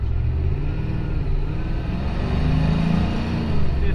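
A 7.3 IDI diesel engine fitted with an RD2-110 injection pump, modified governor and added boost pulls hard from a start in second gear. Its deep, steady rumble stays loud and close throughout, swelling slightly near the end.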